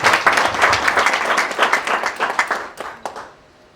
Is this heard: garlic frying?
no